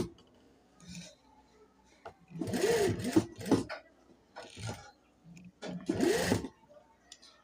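Sewing machine stitching a dress neckline, short whirring bursts of needle chatter separated by pauses and small clicks of fabric handling, close and fairly quiet.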